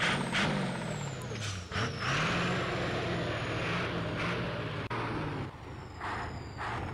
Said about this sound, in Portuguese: tá vendo que o som do caminhão é bem real, né? Um som bem um rústico, um som bem com grave e bem real mesmo